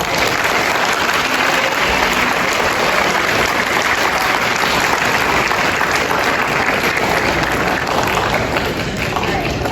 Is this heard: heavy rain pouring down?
no